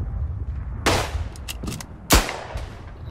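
Two sharp rifle shots ring out in the World War I shooter Verdun, the first near 0.9 seconds and the second louder one near 2.1 seconds, each with a brief echoing tail over a low rumbling battlefield background.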